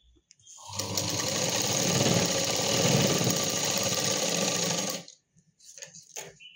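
Sewing machine stitching a sleeve onto a readymade dress, running in one steady, close burst of about four seconds before stopping, followed by faint handling noises.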